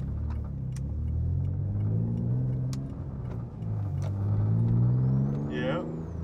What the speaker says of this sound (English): I better be able to hear my turbo.